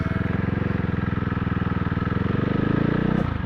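A CCM Spitfire motorcycle is ridden out on a Sunday morning road, its engine a steady, close, throbbing drone with a rapid pulsing beat that builds slightly toward the end.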